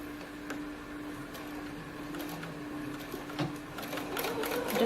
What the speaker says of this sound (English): So I'm just going to sew a 5/8 inch seam, of course back stitching at the beginning and the end so it stays.